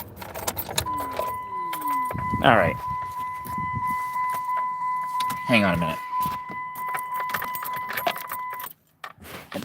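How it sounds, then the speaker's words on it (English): Keys jangle loudly near a parked car inside a living van, with clinks and rattles over a steady idling hum and a constant chime tone that cut off near the end as the engine is shut off; someone speaks briefly. "I should shut off my car because I'm just wasting gas."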